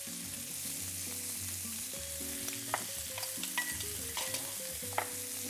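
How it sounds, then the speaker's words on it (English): A spice blend of cumin, coriander, red chili, black pepper, cardamom and salt being stirred in a sizzling pan, with spoon scrapes and light clinks over steady frying, close and without speech. "Give it a stir"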